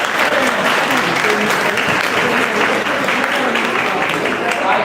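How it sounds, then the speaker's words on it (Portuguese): Sustained applause fills a church during a regional worship service with communion, dense and steady throughout, with voices mixed into the clapping. "Palmas para Jesus."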